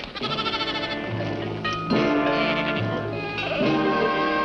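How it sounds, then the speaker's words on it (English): Sheep bleat loudly and repeatedly, several wavering cries overlapping close by, with no talking. "She has her nerve herding her sheep across our lawn."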